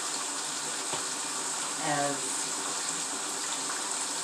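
Water runs into a bathtub for a witchy bath, a continuous loud rushing gush from the tap that fills the space, with a brief voice breaking in near the middle.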